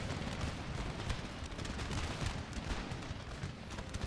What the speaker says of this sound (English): my howitzer shots are devastating that area